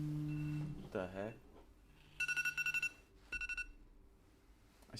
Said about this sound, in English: I still had my waking up alarm.